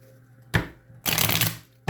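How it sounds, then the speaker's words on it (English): Cards are shuffled twice nearby, a short riffle followed by a longer, louder flutter of cards. "Let me shuffle these."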